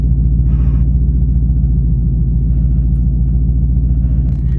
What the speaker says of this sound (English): I love the sound this car makes.